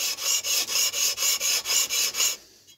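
A steam engine casting rubbed back and forth on wet and dry abrasive paper over a flat surface, about ten steady rasping strokes in an even rhythm, close and clear, ending with a faint final scrape.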